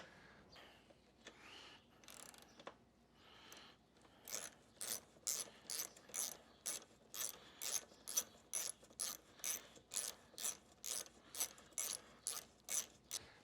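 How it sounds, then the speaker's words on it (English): A fuel valve on a Honda CRF250 being screwed onto the frame makes quiet, rhythmic ratcheting clicks, a dozen or so evenly spaced bursts after some softer handling noise at the start, close and alone. "And we're going to screw our fuel valve to the frame."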